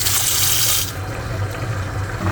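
Tap water runs steadily into a sink as cut pieces are rinsed, loud and close. The flow changes pitch partway through as the pieces shift under the stream.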